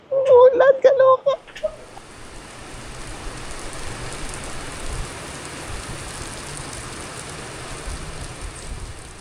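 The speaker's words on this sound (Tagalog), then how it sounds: "Umulan, mga 2 minutes lang. Tapos yung ulan niya sobrang lakas." Heavy rain pours down on a Maldives island as a steady, dense hiss lasting most of the clip, with voices audible in the first couple of seconds before the downpour takes over.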